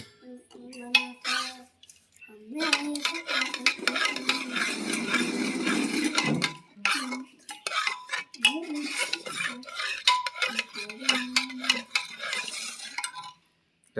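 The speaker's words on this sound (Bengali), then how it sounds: "ঘুগনিটাকে একটু করতে হবে। ঘুগনিটা লাড়া হয়েছে।" A spoon stirs spiced chickpea ghugni in a metal pot for Ramadan iftar, scraping and clinking close up in repeated bursts, with no one talking.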